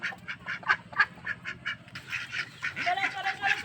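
Ducks quack close by in quick, repeated nasal bursts, with calls overlapping into a busy chatter for several seconds.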